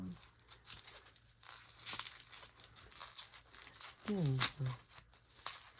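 Paper being peeled and torn off a doll box in short crinkly rips and rustles, quiet and close, while a person talks softly over it.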